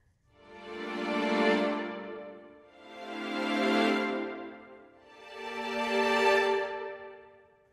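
Three sustained string chords, each fading in slowly, swelling to a peak and tapering off, with no sharp onsets.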